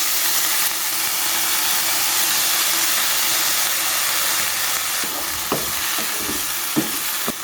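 Steady sizzling and hiss of flat beans frying in a pan with a splash of water, with a few soft scraping clinks of stirring near the end.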